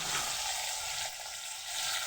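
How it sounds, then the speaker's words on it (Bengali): Rui fish sizzles in hot oil in a wok, a dense, steady hiss of frying that carries on for the whole stretch, with no talking. "এভাবে আর এক পিট ভেজে নেব"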